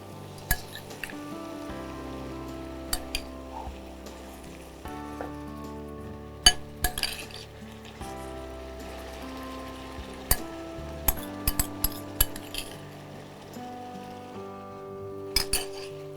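Marinated mutton leg pieces being stirred in a pot, with a spoon knocking and clinking against the metal in scattered bursts over a faint low hum, fairly close and without talk.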